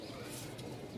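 Top-quality pigeons in a pair, bred from imported parents, give a soft, continuous low cooing throughout a brief moment, with no talking.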